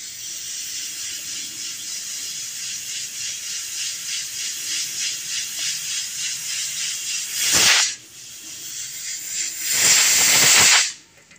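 Pressure cooker on the stove cooking ridge gourd, hissing steam steadily and loudly, then two sharp bursts of venting whistle near the end, with no voices.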